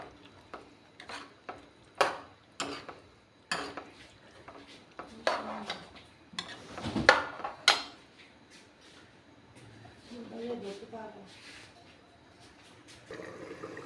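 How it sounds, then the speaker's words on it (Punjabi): Chopped ram tori is stirred with spices in a cooking pot: a run of sharp, irregular clanks and knocks close by, easing into softer scraping and sizzling toward the end. "ਆਪਾਂ ਇਹਨਾਂ ਨੂੰ ਮਸਾਲੇ ਦੇ ਵਿੱਚ ਚੰਗੀ ਤਰ੍ਹਾਂ ਮਿਕਸ ਕਰ ਦਾਂਗੇ"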